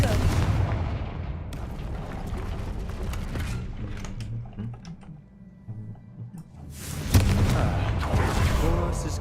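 Confringo fire spells in Hogwarts Legacy setting off booming explosions and crackling blasts, heavy at the start, fading to rumbling debris, then bursting loudly again toward the end.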